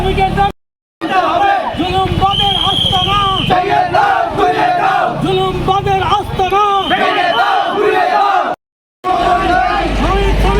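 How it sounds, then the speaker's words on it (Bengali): A crowd of workers at a May Day rally chants slogans in loud rhythmic unison, voices rising and falling together in call-and-response bursts, with two brief gaps of silence. "এ সময় শ্রমিকদের অধিকার আদায়ে নানা রকম স্লোগান দেন তারা।"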